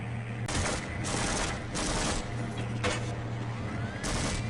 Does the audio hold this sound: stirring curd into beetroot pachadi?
no